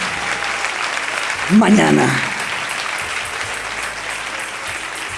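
A church congregation applauds steadily during a Spanish-language sermon, a broad, fairly loud wash of clapping throughout, with a voice briefly speaking over it midway.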